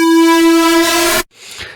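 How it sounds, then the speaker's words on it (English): A synth's second oscillator, a square wave, holds one buzzy, harmonically rich tone loud and steady before cutting off abruptly into a faint noisy tail. "The second one I'm using is a square wave that sounds like this"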